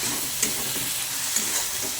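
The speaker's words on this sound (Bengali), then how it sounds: "এটাকে ভালো করে একটু লাল করে ভেজে নিই মশলাটা দেখেছো কত সুন্দর ভাজা হয়ে যাচ্ছে" Cumin and coriander powder spice mix sizzles steadily in hot oil for a chicken kosha, with a continuous close frying hiss and a couple of soft stirring scrapes.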